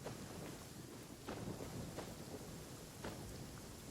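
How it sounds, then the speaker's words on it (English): Steady rain pours through a Genshin Impact game scene, with low thunder rumbling beneath it and soft cracks and wind gusts recurring every second or so. "where'd this rain come from?"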